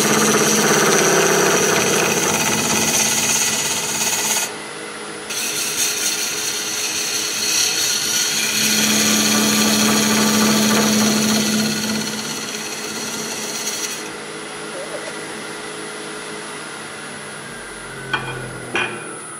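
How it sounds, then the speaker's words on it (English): A big round cutter on a lathe bites into a wood bowl blank with resin inside, a loud sustained grinding roar with a shifting pitch and brief dips, close and without talk. "My big round cutter, and until I hit resin on the inside, then I'll switch to the negative rake,"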